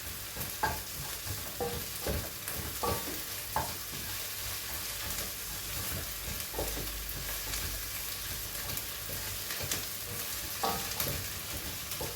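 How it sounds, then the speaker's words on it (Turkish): Tomato paste and onions sauté in a pan for a barbunya bean stew, producing a continuous close frying sizzle broken by repeated scraping stir strokes, with no talking. "Şimdi salçayı kavurun mide yakmasın arkadaşlar."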